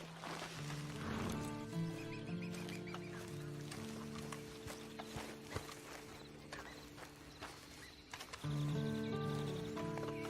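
A horse in Red Dead Redemption 2 Online clip-clops along with hooves thudding in a steady walking rhythm, set against sustained in-game music tones and occasional animal calls, fairly quiet overall.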